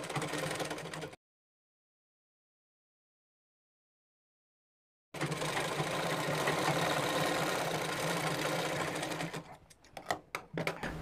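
Sewing machine stitching the seam of a palazzo pant, a steady close whirring run that stops for a silent gap, resumes for several seconds, then slows and ends in a few uneven clunks.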